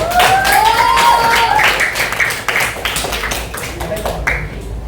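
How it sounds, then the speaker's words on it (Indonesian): Students clap for a classmate about to present in a lesson on sacrificial animals, brisk close hand claps forming a dense burst that fades out over a few seconds, with a few voices underneath. "tepuk tangan buat Hafiza."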